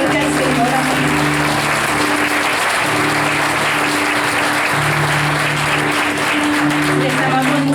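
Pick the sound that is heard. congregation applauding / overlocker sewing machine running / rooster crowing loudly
congregation applauding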